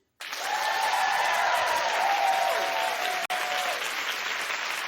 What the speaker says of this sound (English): Clap if you love The Voice.